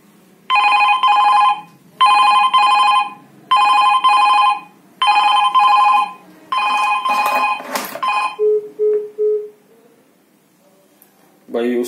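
Landline handset on a BSNL CLI-09 phone rings after automatic dialing: five loud, evenly spaced double-tone ring bursts, followed by a shorter stretch of tones and a faint beep, with no talk.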